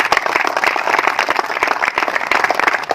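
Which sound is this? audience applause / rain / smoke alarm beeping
audience applause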